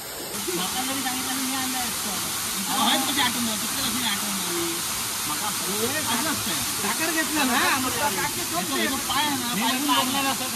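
The natural Kumbhavade waterfall gives off a constant broad rushing roar, while people talk over the top of it.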